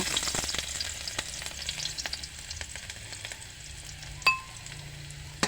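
Garlic frying in a pan for a simple provincial pancit canton dish, a continuous close crackling sizzle with stirring scrapes and one sharp metallic clink near the end.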